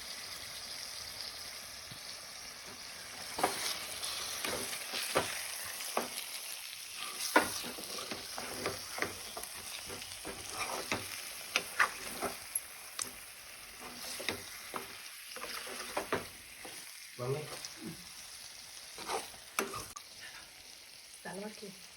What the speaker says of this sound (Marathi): मसाल्याला तेल सुटायला लागलं की त्यात आपण मटणाचे पीस घालूया आणि ते सर्व एकजीव करून घेऊया